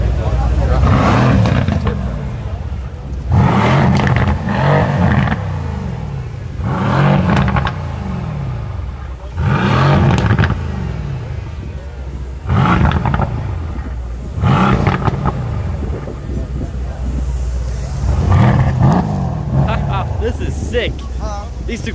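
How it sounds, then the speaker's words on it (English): Cars at a Malmö car meet rev their engines in a series of loud roaring bursts, roughly every two to three seconds, each rising and falling, with people talking in the background. "These two cars are honestly amazing."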